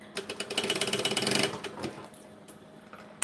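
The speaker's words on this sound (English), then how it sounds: "then we're going to stretch it over here and sew it to the other side" A sewing machine stitches fabric in a fast, rattling mechanical burst for about a second and a half, then slows and trails off into quieter, scattered clicks.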